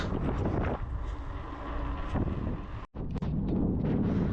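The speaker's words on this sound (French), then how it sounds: "Il y a un vent de fou. Il tient de face en plus." Strong headwind blasting the microphone while mountain biking around Lake Annecy: a continuous, loud, rumbling wind roar with one brief dropout near the end.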